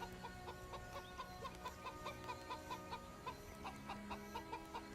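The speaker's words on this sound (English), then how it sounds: "Can I kill that chicken?" A chicken in the medieval RPG Of Ash and Steel clucks in a quick, regular series of short clucks, faint and continuous over quiet game ambience.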